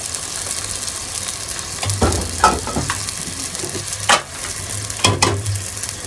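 Spiced roast masala with garam masala, cardamom, cinnamon, ginger-garlic paste, turmeric and chili powder sizzles steadily in a pan, broken by a few sharp scraping stirs of the spoon close up, with no talk.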